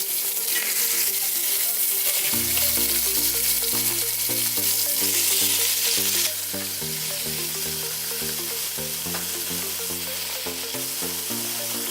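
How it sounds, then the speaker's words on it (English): Constant loud sizzling and crackling of chicken for chicken soup frying in a pan on high heat, with faint tonal music or hum running underneath. "so my chicken has been frying for about 6 minutes"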